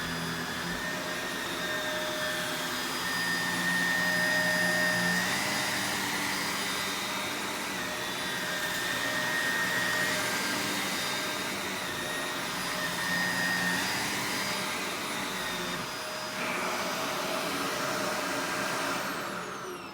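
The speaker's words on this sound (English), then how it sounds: "I'm going to do the Shark Rotator first and see which vacuum can pick up the most powder" A Shark Rotator vacuum cleaner sucking up powder runs as a steady, loud motor whine with a high tonal pitch, slight swells and dips in intensity over twenty seconds, no talking.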